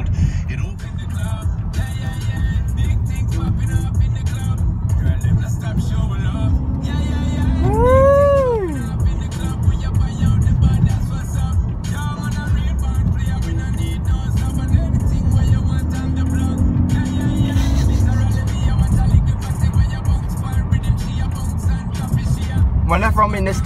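Ford Focus ST hatchback driving along a road towards the motorway, its steady engine and tyre noise heard from inside the cabin throughout, with music playing along with it.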